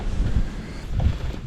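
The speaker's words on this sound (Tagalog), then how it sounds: "ay, lakas ng hangin" Strong storm wind buffets the microphone in low, rumbling gusts, steady and close throughout with no voices.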